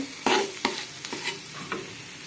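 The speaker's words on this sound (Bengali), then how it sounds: "আর একটু ভাজা ভাজা করে নিব।" Food frying in a pan while being stirred, with four or five distinct scraping strokes over a soft, steady sizzle and no voices.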